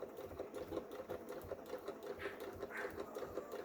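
A domestic sewing machine stitches a hair turban towel with a quiet, steady mechanical whirr and rapid rhythmic needle clatter, fairly close and low in level, with no talking.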